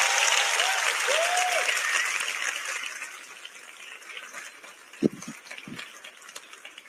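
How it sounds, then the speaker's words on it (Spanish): Audience applause at a post-gala live talent-show broadcast (OT 2023) rises as a dense, loud wash of clapping. It fades steadily over several seconds, leaving a quiet room with a few scattered thumps. "Y un aplauso para ellos, por favor."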